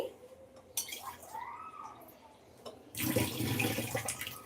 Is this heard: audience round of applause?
no